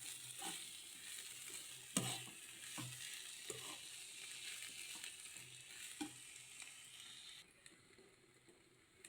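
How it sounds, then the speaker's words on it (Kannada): A spoon stirring masala frying in a pan, steady sizzling with repeated soft scrapes and knocks of the spoon, close and alone with no talk. "ಈಗ ಇದನ್ನು ಸ್ವಲ್ಪ ಚಮಚದಲ್ಲಿ ತಿರುಗಿಸಿಕೊಳ್ಳುವ"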